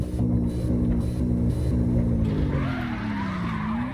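A truck drifts in CarX Drift Racing Online, its engine droning in repeated revving bursts as the tires break into a sustained skid and squeal, loud and close, with the engine pitch sweeping up toward the end.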